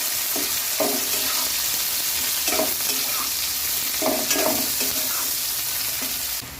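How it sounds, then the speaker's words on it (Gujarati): Sliced onions frying in oil until pink for a potato bhaji, a continuous close hissing sizzle with occasional soft clinks of a spoon stirring through the pan, no speech. "જ્યાં સુધી આપણી ડુંગળી ગુલાબી ના થાય ત્યાં સુધીને આપણે એને શેકી લઈએ"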